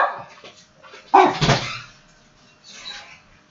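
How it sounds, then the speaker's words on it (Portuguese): A dog barks a few times at mid distance in a quiet indoor room during an electromagnetism lecture, a short burst of sharp yelps followed by softer whimpering sounds, with no talk over it. "Só um momentinho que o cachorro está latindo."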